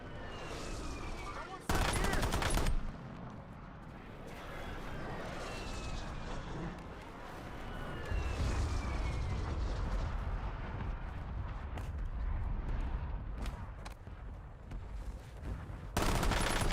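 Dense, continuous gunfire in a multiplayer first-person shooter, the weapon heavy with recoil, with sustained bursts and loud sharp blasts near the start and end, amid constant battlefield noise and intermittent talk.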